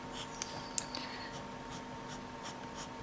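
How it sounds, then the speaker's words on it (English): Quick, light flicking strokes of a colored pencil on paper while shading sunflower petals, a few faint scratchy ticks over a soft steady hiss, close and quiet. "You might be able to hear I'm almost flicking the pencil"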